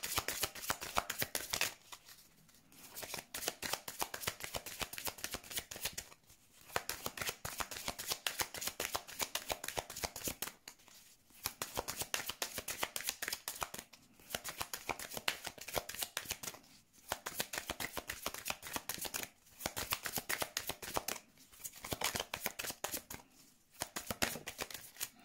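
Lenormand oracle cards are riffled and shuffled in long, dense bursts, each a few seconds long, separated by brief quiet pauses, close and fairly quiet.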